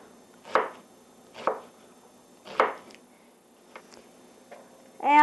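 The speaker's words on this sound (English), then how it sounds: "that's it for the chopping." A knife chops vegetables into small dice for avgolemono soup, giving three distinct firm chops followed by a few lighter taps on a board, spaced at irregular intervals, close and clear.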